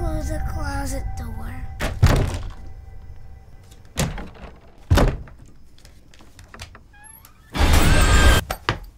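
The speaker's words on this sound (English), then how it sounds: "Can you close the closet door?" A closet door bumps shut with a couple of dull thuds in a quiet room during a Halloween horror trailer, followed by a louder, longer thump near the end, with faint talk around it.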